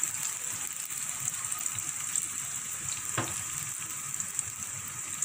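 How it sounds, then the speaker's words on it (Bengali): Onions and fish fry in a pan with a steady, fairly quiet crackling sizzle that continues evenly, with a brief clatter partway through. "পেঁয়াজটা একটু নরম হওয়ার জন্য দিয়ে দেবো, বাকি পেঁয়াজও দিয়ে দেবো এখানে"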